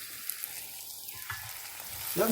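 Kuttanad-style duck curry fries and bubbles in a pan as it is stirred, with a steady close sizzle and some soft scraping, growing slightly louder toward the end.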